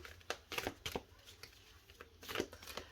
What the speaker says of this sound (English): I'm going to shuffle them.